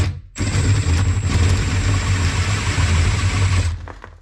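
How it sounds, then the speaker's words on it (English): A power drill fitted with a 20mm bit whirs loudly and steadily at close range for about three seconds, a high whine riding over the motor, then winds down. "So then with our 20mm drill bit, let's drill."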